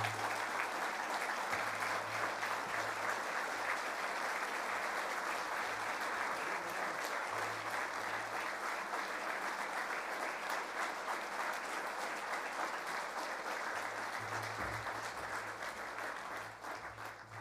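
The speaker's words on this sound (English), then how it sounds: "another big round of applause for our leader, the Right Honourable Winston Peters" An audience at a New Zealand First party convention applauds in a sustained, even wash of clapping that fades slightly at the end, with a low hum beneath.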